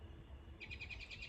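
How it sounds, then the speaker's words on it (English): Birds chirping, a quick run of repeated high tweets starting partway through, faint and close together over a soft background hush. "Maybe it's the sound of the birds"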